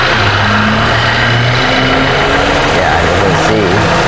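A car engine with a thermostat stuck open runs loudly and steadily close by, its radiator fan adding a constant whooshing roar over the low engine hum, with some voices mixed in.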